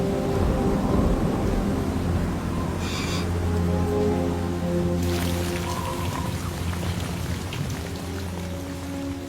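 Heavy rain pours in a dense, unbroken roar while thunder rumbles low and deep beneath it. The storm stays loud and close throughout, with a few brighter surges in the downpour.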